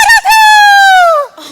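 A human voice imitates a rooster crowing, one loud, close, drawn-out cock-a-doodle-doo with a sharp break near the start and a falling end.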